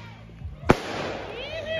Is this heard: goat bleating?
no